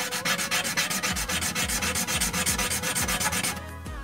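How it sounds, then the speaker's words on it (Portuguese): Rhythmic back-and-forth rasping of sandpaper on a wooden toothpick, steady strokes close by, stopping near the end. "vocês pegam a lixinha e vai lixando pra ele ficar na mesma medida que o outro"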